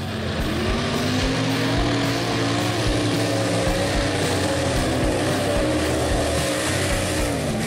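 Mud-racing trucks roar around Stateline Speedway, a loud, continuous engine drone with rising and falling revs, dense and unbroken throughout.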